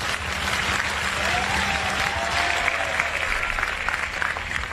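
An audience claps steadily throughout, a dense, sustained wash of applause at even loudness with a faint voice briefly underneath.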